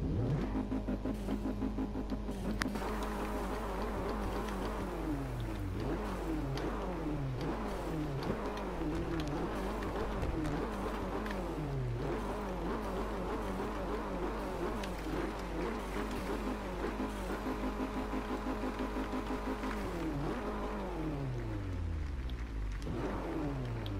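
In a racing video game, a Mercedes-Benz CLA 45 AMG engine revs up and down over and over in a loud, continuous mid-range drone, then winds down near the end as the car brakes to a stop.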